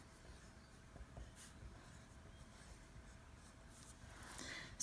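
A pen or pencil moves by hand across paper in soft, faint scratching strokes, close but quiet against a low background hiss, with no talking.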